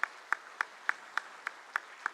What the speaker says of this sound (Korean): 한 번 더 뜨겁게 박수로 격려하겠습니다